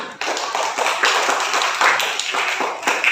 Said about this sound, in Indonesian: Coba tepuk tangan semua.